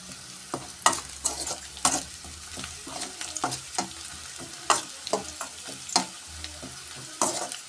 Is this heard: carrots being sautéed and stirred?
yes